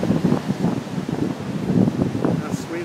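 Gusty wind on a beach buffets the microphone with a steady low rumble, with faint voices and surf-like noise mixed underneath.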